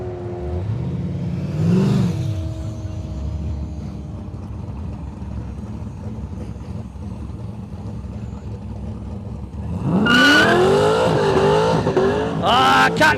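A VE Commodore launches at a no-prep airstrip drag race with plenty of tyre spin, a loud engine rising in rapid revs and tyre squeal after a quieter stretch of distant car noise.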